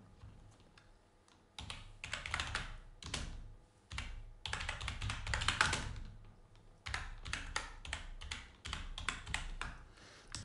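Typing on a computer keyboard while working in After Effects, close and fairly quiet, with bursts of rapid key clicks separated by short pauses.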